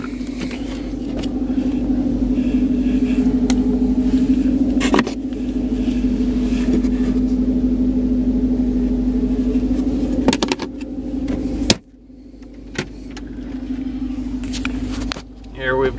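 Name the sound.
2013 Dodge Charger R/T engine started by remote start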